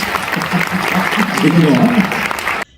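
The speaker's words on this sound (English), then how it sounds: "can we please give a round of applause for our wonderful panelists and the great information" Audience applause for a panel at an HR industry summit, a steady wash of clapping lasting a few seconds with voices mixed in, ending abruptly.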